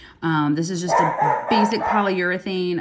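A dog barks repeatedly nearby in a home workshop, short yips and barks overlapping a person speaking steadily about finishing resin earrings.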